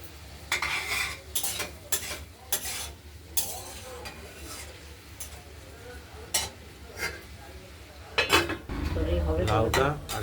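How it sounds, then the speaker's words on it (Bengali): A spoon stirs bottle gourd curry with lentil dumplings and coriander in a metal pan, giving repeated clinks and scrapes against the pan, with a louder rattle near the end as the lid goes back on. "লাউটা আরেকবার নেড়ে ছেড়ে দিলাম"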